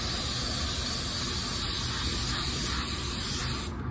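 A spray gun spraying sealer on a car hisses steadily and close up for several seconds, a continuous airy spray that cuts off near the end.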